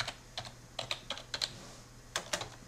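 Typing on a computer keyboard while entering text in the DraftSight drafting program: a few short bursts of crisp, close key clicks with brief pauses between them, faint and alone over a low hum.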